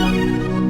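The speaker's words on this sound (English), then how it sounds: "it's called cheap orchestra right here." A 'Cheap Orchestra' synth preset in an R&B beat holds a bright, harmonically rich chord that slides downward, sustained and loud before tapering off at the end.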